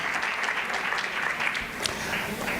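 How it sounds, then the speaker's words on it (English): Audience at a government Women's Month launch in KwaZulu-Natal applauding the Minister, a dense, steady round of clapping filling the whole moment. "Please give the Minister a big round of applause."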